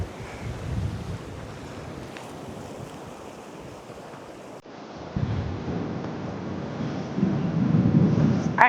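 Rough sea water surging against a coastal wall at Folkestone Warren, a rushing wash of waves with heavy wind buffeting the microphone, fading briefly and then building louder toward the end.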